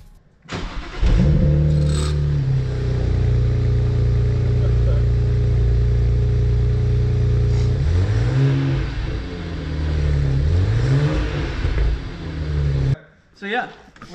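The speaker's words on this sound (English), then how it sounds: "Here's a cold start." BMW N54 engine in an E90 with a stage 1 MHD tune cold-starting: a quick crank catches into a loud, steady high idle, a few revs flare midway, then it cuts off near the end.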